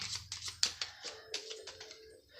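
Clank! In! Space! game cards riffled and shuffled by hand, a quick run of crisp flicking bursts and soft slaps, close and fairly quiet, with no voices.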